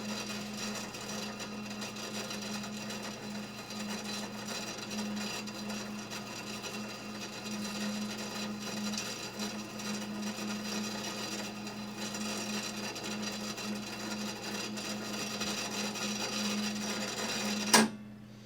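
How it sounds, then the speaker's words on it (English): Embroidery machine automatically winding its bobbin, a steady mechanical whir with a constant low hum running evenly throughout, ending in a sharp click. "you can see the bobbin is winding. Okay, and it does it for you automatically."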